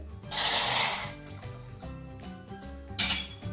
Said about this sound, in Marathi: पातेल्यामध्ये दोन कप दूध टाकून घ्यायचं आहे